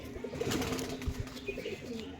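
A Matraj pigeon, a black-grained male, coos softly in low repeated murmurs nearby against a steady background hum.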